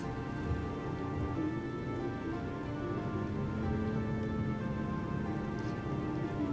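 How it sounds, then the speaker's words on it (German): Steady rain falls in the video game Final Fantasy XV, a continuous even patter of drops on surfaces under a faint humming game ambience. "Oh, es regnet wieder cool."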